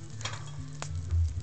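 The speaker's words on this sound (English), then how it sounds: "I hear some sizzle." Butter sizzles in a very hot pan with popcorn kernels not yet popping, a steady close frying hiss with a few faint clicks and a low hum underneath, no talking.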